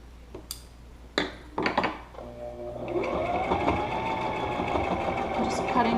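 A sewing machine runs steadily as it stitches along the edge of a homemade fabric face mask. The whir follows a few clattering knocks and carries on close and continuous for several seconds.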